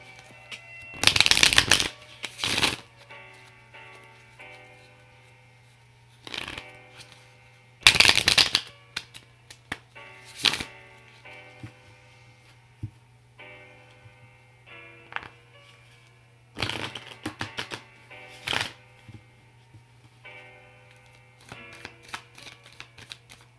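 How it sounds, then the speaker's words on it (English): Rider tarot deck cards shuffled in several loud, crisp riffling bursts with quieter handling and card placement in between, over a steady low hum, with no talking. "So now we're going to pick from the Rider Tarot deck."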